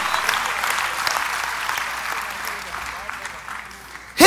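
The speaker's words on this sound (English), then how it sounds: "You all clap, man." Audience applause fills a church auditorium during a sermon, a steady clapping wash at moderate level that holds through the whole stretch before a sudden loud burst at the very end.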